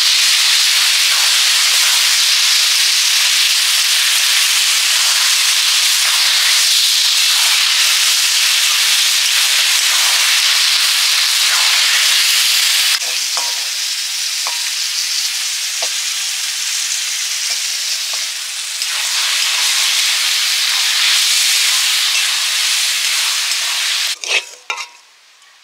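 Jute leaves from a home garden stir-fry in a pan, giving a loud, steady sizzle and hiss for most of the time, with the tone shifting partway through and a few clatters near the end. No one talks.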